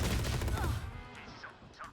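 Rapid bursts of gunfire in a 3-versus-5 multiplayer shooter match, loud and dense at first and then thinning out, with softer game effects trailing behind.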